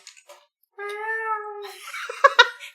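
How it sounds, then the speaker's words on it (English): A little black cat gives one clear, drawn-out meow at close range after a few faint ticks, followed by rustling and scuffing sounds. No purr stands out. "I have a little black cat that walks across the screen and purrs"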